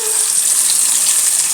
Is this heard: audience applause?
no